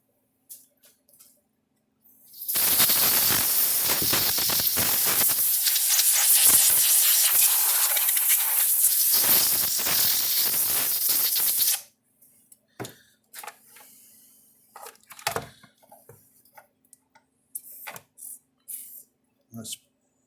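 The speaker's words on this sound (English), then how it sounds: "And your can of air." A can of compressed air blasts into a Zareba SP3 solar fence charger to clear out corrosion, a loud steady hiss lasting about nine seconds, followed by scattered handling clicks and rustles.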